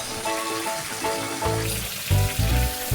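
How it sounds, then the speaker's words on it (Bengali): Onion drops into hot oil and starts to fry, a close crackling sizzle that grows louder and denser midway, with no voices. "পেঁয়াজটা আমি তেলের মধ্যে দিয়ে দিচ্ছি।"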